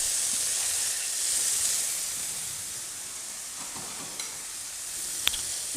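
Monkfish sizzles in a hot pan with olive oil, giving a steady, close frying hiss throughout with a couple of faint pops and ticks toward the end.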